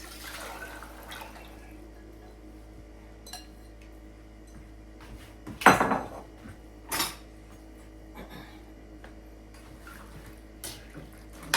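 A pot of soaked peas and their water being tipped out in a home kitchen, with faint trickling, a sharp metal clank partway through and scattered clinks of pot and utensil.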